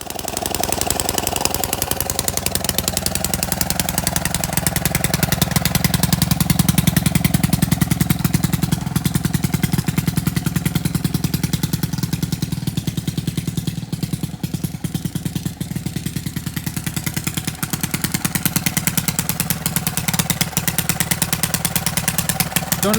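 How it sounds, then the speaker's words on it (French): A Honda 501 rotavator engine runs continuously at a steady, loud, rough drone with a rapid pulsing beat, close by and without talk. "Donc là, j'ai une Honda, la 501, que je vais utiliser pour pulvériser ce sol."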